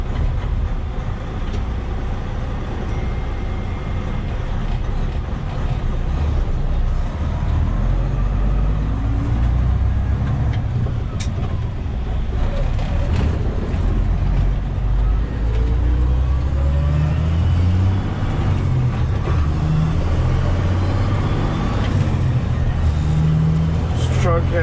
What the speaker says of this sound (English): Truck has nice takeoff